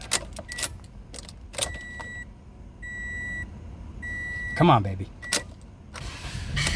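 A Toyota Corolla with a troubled engine is cranked repeatedly and fails to start, with keys jangling, dashboard warning chimes, someone talking, and the starter whirring in short attempts.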